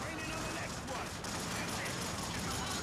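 Dense machine gun fire rattles continuously in a video game, a busy, fairly distant burst of shots with a voice talking over it.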